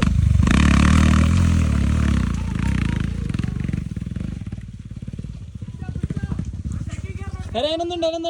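A scooter engine drones steadily while riding an off-road trail at Chathamangalam during a monsoon ride, with the motor rough and clattering, revving in places, and people talking over it throughout.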